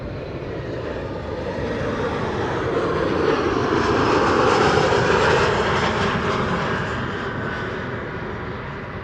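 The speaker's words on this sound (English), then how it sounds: "That's an Embraer 175 arriving from Luxembourg." A KLM Embraer 175 jet airliner arriving at Amsterdam Schiphol from Luxembourg passes as a broad, steady engine roar that swells to a peak midway and eases slightly, loud and continuous with no voices.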